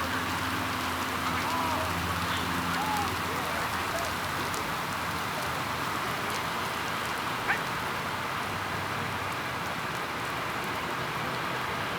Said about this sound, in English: it's really raining here, really disappointing